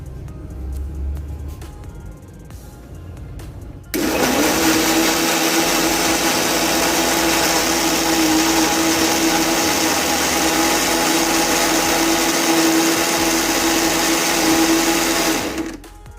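A blender whirs steadily and loudly for about twelve seconds as it mixes an Enduramass milkshake lassi with bananas, starting abruptly after quieter handling noise and cutting off at the end.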